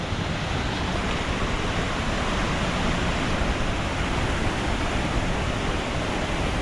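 A river crossing on a mountain hiking trail in Central Kalimantan, with water rushing in a steady, dense roar that stays loud and unbroken throughout, without voices.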